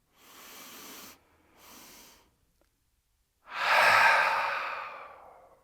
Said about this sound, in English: we're going to breathe in